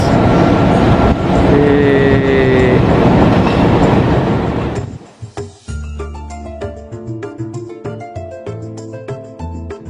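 The Argo Muria passenger train from Semarang Tawang roars loudly past on track 2. The rush of wheels and carriages cuts off abruptly, leaving rhythmic clickety-clack and clanks from the rails.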